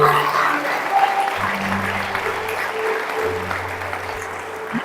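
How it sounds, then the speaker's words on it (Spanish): Steady applause from a crowd fills the whole stretch, with a low sustained tone running underneath. "Dele un aplauso al rey, por favor."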